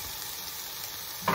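Beyond Meat plant-based meat fries in olive oil in a pan, giving a steady, close hiss of sizzling that runs unbroken and ends with a brief louder knock.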